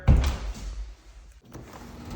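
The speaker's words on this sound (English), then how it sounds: "Here in this bedroom, we got another door that sticks up here." A sticking bedroom door being worked in a house, giving a loud scraping thump at the start and then a drawn-out rubbing scrape of the door against its frame, close and fairly quiet.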